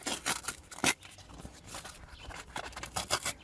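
A small piece of 120-grit sandpaper is torn off by hand before sanding car brake calipers, giving a few short, sharp ripping and crinkling bursts up close, uneven in rhythm, with no talk.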